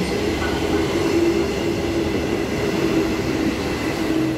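An EMU electric passenger train runs through a station with a steady loud rumble and rail noise, faint wheel squeal riding over the continuous roar.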